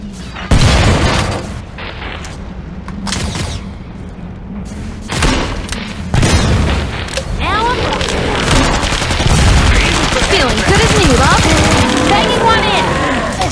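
Automatic gunfire from a high-tech weapon rattles through a Killing Floor 2 fight, mixed with booming impacts and thuds, loud and sustained under game effects and a talking voice.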